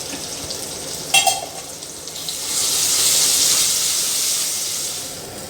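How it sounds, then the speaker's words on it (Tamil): A brief clatter gives way to a steady, loud sizzling hiss of ginger garlic paste sautéing in hot oil for tomato kuzhambu that swells and holds. "இஞ்சி பூண்டு பேஸ்ட் 1 ஸ்பூனு போட்டு நல்லா வதக்குவோம்."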